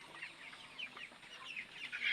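Chickens and roosters in a poultry shed give soft, scattered clucks and short calls at low level, with a faint steady background hiss and no voices.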